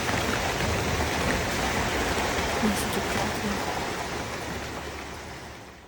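Rain pours steadily outside a rented boarding room in Yogyakarta, a dense even hiss that holds throughout and tapers slightly at the end, with a person speaking briefly over it.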